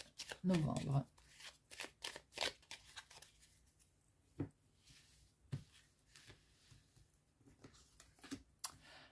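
Oracle cards being shuffled close by in a burst of soft riffling, then scattered light card taps and flicks, faint under someone speaking.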